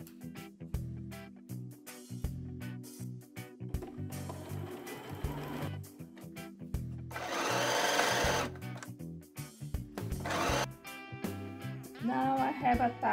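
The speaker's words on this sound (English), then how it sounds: "I'll finish off by sewing the side seams of the skirt" Domestic sewing machine stitching the side seams of a skirt on a dress made from an upcycled shirt, running in repeated short bursts of rapid needle chatter with pauses between, fairly close, with a louder sustained run midway.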